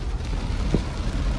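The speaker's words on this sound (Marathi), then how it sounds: "खूपच भयंकर पाऊस आलेला आहे" Heavy monsoon rain pouring down on Aadhai village, a dense continuous hiss close by with a brief low thump partway through, and no talking.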